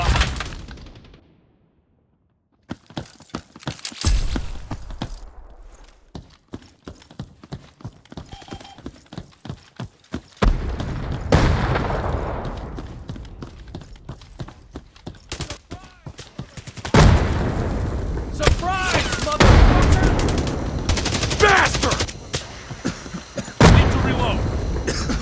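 Gunfire and a frag grenade explosion in the Hired Ops shooter game: a sudden boom and bursts of rapid automatic fire, then sustained loud volleys of shots crowding together, with players talking over the action.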